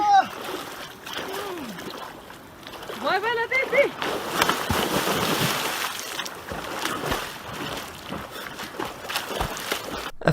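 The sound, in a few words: rescued ducks splashing into water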